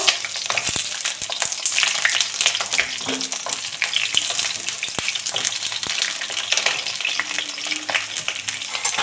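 Pointed gourd fries in a pan with a constant, dense sizzle, scattered crackles and the odd clink of a utensil throughout.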